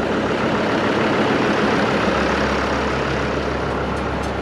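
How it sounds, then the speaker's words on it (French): A tractor engine drives a feed mixer through its power take-off, a steady, dense mechanical roar with a low rumbling hum that holds constant throughout without pauses. "Et puis on allume la prise de force comme ça va se mettre tranquillement à tourner."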